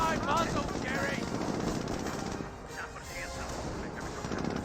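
Gunfire in a Company of Heroes battle, a dense, continuous rattle of small-arms shots and distant bursts under a commentator's steady talk.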